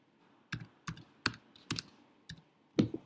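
Several separate keystroke bursts on a computer keyboard as a one-time code is entered while setting up an online seller account, each press crisp and close, spaced with short pauses and no talk.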